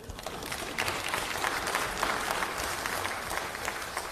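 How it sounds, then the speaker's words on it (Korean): Assembly of lawmakers at a party policy caucus meeting applauding to welcome the justice minister, a steady, dense burst of many hands clapping that rises slightly after the first second and holds. "여러분 큰 박수로 환영해 주십시오."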